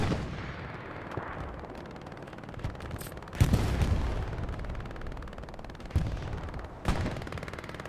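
MG42 machine gun fire and other combat gunfire in the World War II shooter Hell Let Loose, with distant rumbling shots and several sharper, louder bursts punching through a steady battlefield din, no voices.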